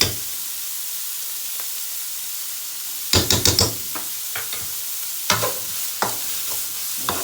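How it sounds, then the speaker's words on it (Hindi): Egg fried rice is stirred in a hot pan, giving a steady sizzling hiss broken by a few sharp clusters of scraping and knocking from the spatula against the pan. "अच्छा सा मिक्स करेंगे।"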